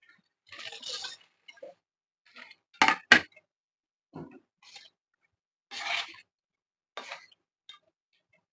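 Peanuts being stirred into hot jaggery syrup in a pan with the stove off, heard as a few separate scraping and clinking bursts of a spoon against the pan, close and quiet, with pauses between strokes and no talking.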